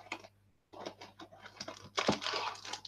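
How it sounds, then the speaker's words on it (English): Candy wrapper plastic crinkles and rustles close by in short bursts, pausing briefly near the start, then crackling busily again during a live animation stream. "I'm very sorry for this rustling noise on the background."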